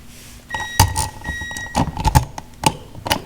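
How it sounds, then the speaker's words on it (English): Electronic beeping at a job site where wiring is being run through drywall, with several sharp tonal beeps spaced irregularly over a few seconds, close and fairly loud among clattering handling noise. "Something's beeping at me."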